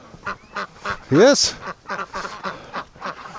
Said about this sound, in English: Oh, we got duckies everywhere here.